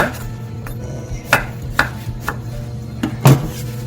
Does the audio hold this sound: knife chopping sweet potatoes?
yes